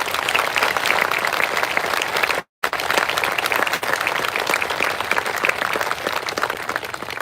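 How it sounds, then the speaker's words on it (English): A high school graduation audience gives sustained, dense applause for scholarship recipients, loud and steady throughout with one brief silent dropout midway. "May we give a round of applause for all of our scholarship recipients."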